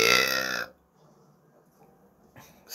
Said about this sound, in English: I apologize if I burped